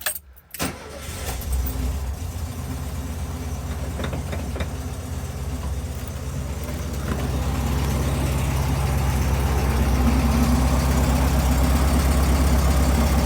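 A cold 1974 Volkswagen Super Beetle air-cooled engine cranks briefly, catches and settles into a steady fast idle on the choke, loud and close, growing slightly fuller as it runs.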